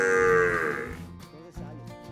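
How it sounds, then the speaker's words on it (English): Water buffalo cattle on a Costa Rica farm at milking time, the cow and calf calling to each other: a long, loud, close moo that slides down in pitch, followed by quieter rumbling sounds and low background noise. "one calls the cow and the calf answers"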